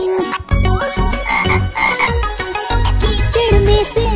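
A frog croaks loudly and repeatedly in a rainy-day Hindi children's song. The croaks are close, rhythmic and dense, with rich harmonic tones, and no voices are heard.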